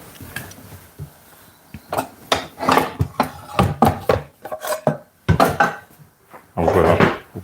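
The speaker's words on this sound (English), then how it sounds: "I'm gonna take out a saute pan." A saute pan is lifted out and handled in a home kitchen while Japanese yakiniku chicken is cooked, giving a run of close, sharp clanks and knocks of metal cookware in an irregular rhythm, with a denser clatter near the end.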